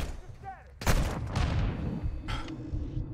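Grenade blast and gunfire in a shooter video game: a sudden loud burst followed by a rumbling explosion tail and another crack of fire, with a voice briefly heard beforehand.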